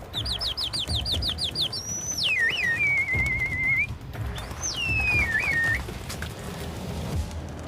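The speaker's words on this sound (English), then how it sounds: "waves and whistles to entice them to his coop" A man on an Egyptian rooftop whistles to call pigeons to his coop: a rapid series of short chirpy whistles, then two long sliding whistles that swoop down and hold, over faint background noise.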